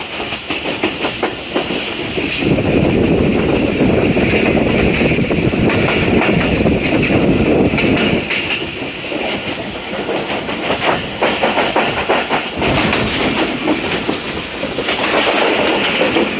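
A passenger train runs along the rails on a long journey, its loud continuous rumble marked by rhythmic clickety-clack from the wheels and a few surges in intensity, close and unbroken throughout.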